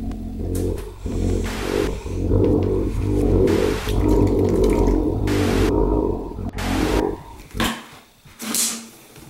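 Tap water running in bursts to fill a drinking glass, close and fairly loud, with several short spurts broken by brief pauses and some clattering at the end.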